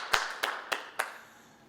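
Short burst of congregation applause in a church worship service: four sharp, evenly spaced claps or clap clusters, moderately close, fading into quiet room tone with no talk.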